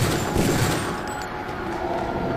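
Rapid gunfire from a weapon in the video game Deus Ex, a dense, continuous rattle of shots filling the whole moment at steady loudness with no talk over it.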